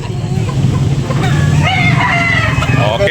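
A rooster crows repeatedly at a busy Cebu market in the Philippines, loud and near over a constant crowd murmur while someone talks in the background.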